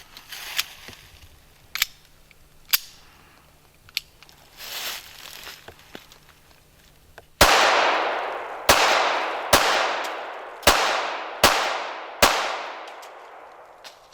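A Smith & Wesson Bodyguard .380 pistol fires Remington 95 grain ammunition, six sharp, loud gunshots in quick succession, each ringing out with a short echo, after a stretch of quieter clicks and handling noises.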